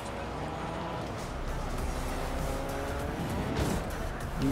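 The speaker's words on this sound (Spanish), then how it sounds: "Y le ponemos los neumáticos y nos vamos conduciendo" An IO car fitted with off-road tires is driven in Fortnite, its engine drone running steadily close by with tire squeal and skidding, under a speaking voice.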